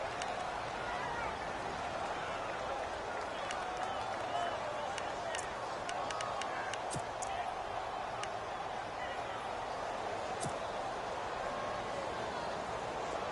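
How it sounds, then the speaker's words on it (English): A crowd roars in an American football video game on PS4, a dense, steady wash of cheering and scattered claps building toward a big third down, heard continuously under a speaking voice. "The crowd getting into it as we come up on a big third down."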